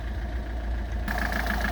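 A cold Peugeot 407 2.0 HDi diesel idles in winter, a steady low rumble with an even mechanical chatter that stays constant, close and moderately loud throughout.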